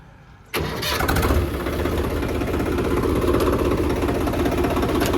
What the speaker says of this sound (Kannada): ನೀವು ಅಂದರೆ ನ್ಯೂಟ್ಲು ಮಾಡ್ಕೊಂಡೇ ಗಾಡಿ ಸ್ಟಾರ್ಟ್ ಮಾಡಿ